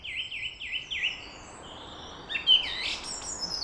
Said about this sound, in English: And that is a song thrush.